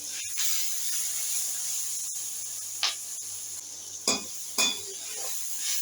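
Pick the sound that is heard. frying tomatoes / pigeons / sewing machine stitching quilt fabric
frying tomatoes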